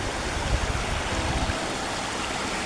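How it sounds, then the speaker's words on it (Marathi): A stream of water rushing downhill outdoors, a steady broad close-up gush with a few louder splashes early on, no voices. "इकडे पाणी जातं पूर्ण खाली"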